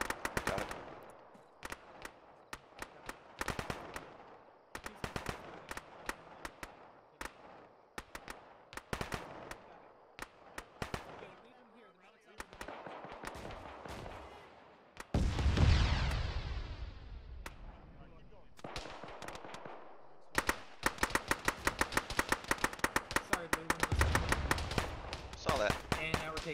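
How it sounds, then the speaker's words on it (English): Heavy machine gun fire from a hill in the video game Arma arrives in repeated bursts of sharp automatic shots, some distant and some close and loud, with a big explosion-like blast midway and people talking throughout. "HMG fire from the hill because of course."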